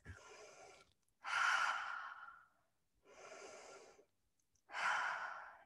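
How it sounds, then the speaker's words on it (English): Four slow, deep human breaths, alternating long inhales and exhales with short pauses between them, close and soft in a quiet room. "take a couple really big deep breaths"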